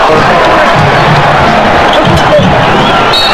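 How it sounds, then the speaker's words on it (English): Loud, dense crowd roar filling a large arena at a Lakers basketball game, sustained cheering and applause with scattered shouts and courtside thumps. "A roar of applause for Nick Van Exel as he goes to the bench."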